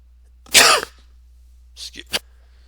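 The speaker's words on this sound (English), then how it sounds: "I had a cough there." A single sharp cough, then a pair of smaller throat-clearing coughs after a pause, in an otherwise quiet room.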